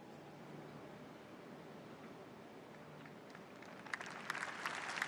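Applause rises in a large hall during the opening ceremony of the Grand Egyptian Museum in Giza, starting faint and swelling into scattered, distant clapping near the end.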